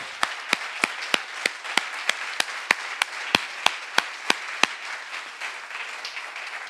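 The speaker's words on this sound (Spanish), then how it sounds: "Démosle un aplauso al Señor en esta mañana." Rhythmic clapping during a Spanish-language church service, about fifteen sharp, evenly spaced claps in steady time over a low murmur, fading out at the end.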